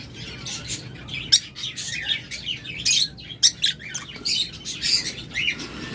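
Cockatiels chirp and whistle in a row of quick, bright calls, several birds overlapping at close range over a low hum of aviary background noise.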